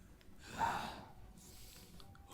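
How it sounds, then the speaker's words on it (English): A Genshin Impact game character pants in a whispered ASMR playthrough with one soft, breathy gasp, quiet and close, over faint background hiss and no talk. "Panting."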